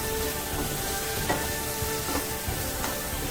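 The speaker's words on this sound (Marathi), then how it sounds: "त्याला मी छान अजून भाजून घेते" Sweet potato sheera with sugar roasts in a pan, giving a steady close sizzle with light scraping as it is stirred, and no voices.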